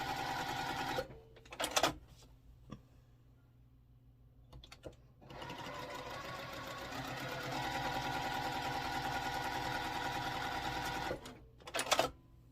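A sewing machine stitches quilt half square triangles, running in a steady close whirr for a stretch after a short burst and pause, with brief handling clicks and quiet gaps between runs.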